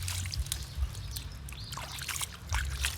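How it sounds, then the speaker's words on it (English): Water is poured over toy trucks, a steady trickle and splash that keeps going for a few seconds and sounds close to the listener. "We put some water like this"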